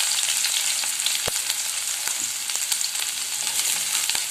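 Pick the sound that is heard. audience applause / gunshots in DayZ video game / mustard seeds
mustard seeds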